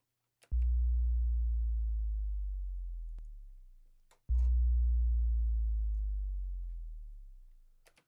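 Two deep synthesized sub-drop bass hits shaped by a low-end plugin each boom in loudly and then sag and fade slowly over several seconds, separated by a faint click.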